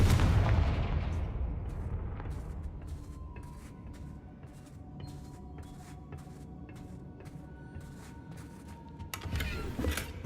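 A Confringo blasting curse in a video game, a loud booming explosion up front that decays into crackling debris and rattling clicks, then another rumble near the end, with no talking.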